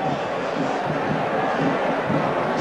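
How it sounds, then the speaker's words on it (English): Partisan Mountaineer fans at a 1988 West Virginia versus Virginia Tech college football game, a dense, steady roar of a large stadium crowd with broad, sustained noise and scattered shouts, loud throughout. "the partisan Mountaineer crowd here looking for a late call"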